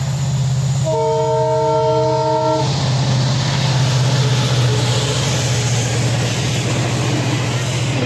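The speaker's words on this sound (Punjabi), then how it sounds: "ਟ੍ਰੇਨ ਕਿਧਰ ਆਊਗੀ ਇਧਰ ਆਊਗੀ" A train roars past close by with a steady heavy rumble, a short horn blast sounding near the start.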